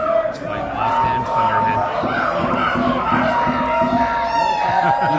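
A tournament crowd cheers on a fighter, a dense, continuous roar of shouting and whooping voices close around, with a sustained tone running through the noise.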